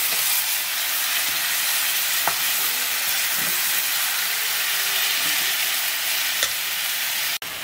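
Steady, close sizzling of chicken frying in a hot pan, a continuous crackle with a few brief clicks and knocks.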